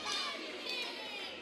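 Spectators at an amateur 56 kg boxing bout raise their voices in a loud, continuous roar, with a commentator talking over them.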